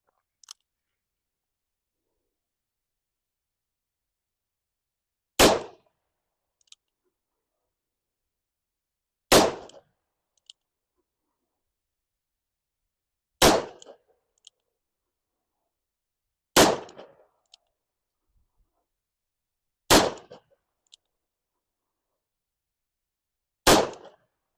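Six loud, sharp .44 Magnum shots with 240-grain jacketed hollow points fired at knockdown targets, spaced a few seconds apart, each a sudden crack with a short decaying tail, some followed by faint metallic target pings.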